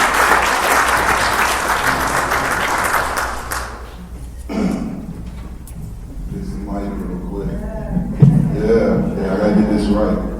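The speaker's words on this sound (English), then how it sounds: "So please join me in giving him a applause." Audience applause for a speaker being welcomed at a talk on working with youth in crisis, a dense burst of clapping that fades after a few seconds, followed by someone talking at close range.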